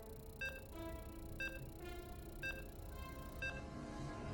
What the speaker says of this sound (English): As you can hear the beeps, the lobby is ready